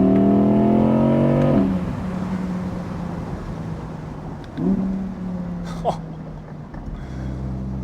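An Audi R8 V10 Performance Spyder climbs an Austrian mountainside, its engine howling loud and close. Two upshifts drop the revs before it pulls again, with wind roar and a few brief clicks between.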